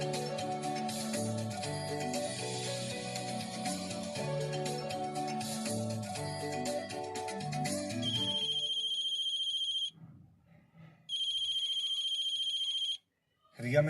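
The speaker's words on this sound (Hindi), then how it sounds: "रिया, मैंने कितनी बार कहा है काम के बीच मुझे फोन मत करना।" A telephone ringtone plays over music and then sounds alone as repeated steady electronic rings with a short pause between bursts, followed by a brief noise at the end.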